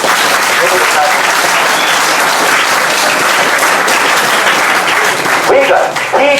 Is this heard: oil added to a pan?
no